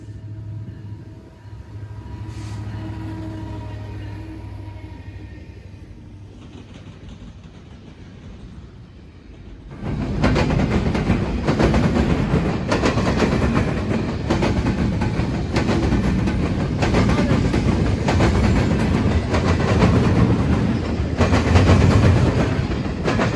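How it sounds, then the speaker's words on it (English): A northbound CN intermodal freight train led by an SD70M-2 rumbles steadily nearby in West Chicago, then grows suddenly louder as cars roll past with a continuous rhythmic clickety-clack over the rails. "Next up would be a northbound CN intermodal led by a ST70M-2"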